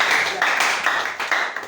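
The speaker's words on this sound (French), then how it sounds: "Acclamez pour les fidèles," Church congregation applauding the faithful during a service, steady dense clapping in close pulses with a few louder surges, filling the room throughout.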